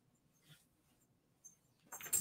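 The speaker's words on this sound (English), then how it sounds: "And my dog's coming after me right now." A dog makes a few faint, brief whines and snuffles close to a quiet room, ending with a louder rustling burst.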